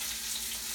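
A partly cooked steak sizzles in a hot frying pan, a steady close hiss and crackle that fills the short moment with no talking.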